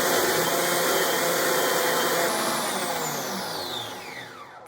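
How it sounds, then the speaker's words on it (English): A blender mixing a drink whirs loud and steady, its pitch sliding downward as the motor winds down and fades near the end. "Looks like our drink is done blending"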